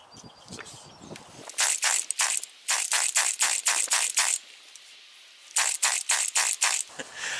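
Repeated pull-start attempts on a Predator 52cc two-stroke auger powerhead engine, which is flooded and fails to fire: two bursts of quick, evenly spaced rasping recoil pulls, separated by a short pause, close and loud.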